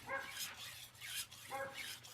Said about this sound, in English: Uh oh, dog's gonna bark.